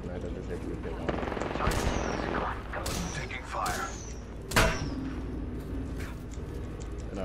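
Gunfire in the video game Apex Legends comes in several loud, sharp bursts and a heavy thump over a busy game background, with a voice talking throughout.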